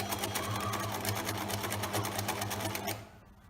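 A sewing machine runs steadily for about three seconds, stitching fabric for an apron with the presser foot as a guide, its fast rhythmic whir loud and close before stopping abruptly.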